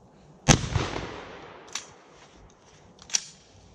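A shotgun loaded with double-aught buckshot fires at a metal and plastic target outdoors, one loud sharp blast with a trailing echo, then a fainter crack and another sharp report.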